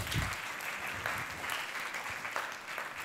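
Audience applause for a contestant at a regional science-talk competition final in Trieste, a dense, continuous roar of clapping heard alone at a fairly even level throughout.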